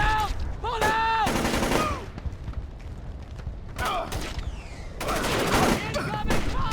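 Gunfire in Splinter Cell: Chaos Theory, loud bursts of rapid automatic fire in separate volleys with mechanical clanks and quieter gaps between them.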